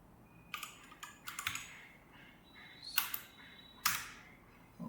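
Code being typed on a computer keyboard in short bursts of sharp clicks separated by pauses, close and fairly quiet with no talk.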